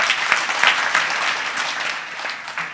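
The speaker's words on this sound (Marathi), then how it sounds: "या अन्नदातासाठी जोरदार टाळ्या वाजवा" Steady, dense applause from a crowd at a Marathi Warkari kirtan in Bhalegaon Bazar, honoring a food donor; the clapping holds close and even throughout, with small swells in intensity.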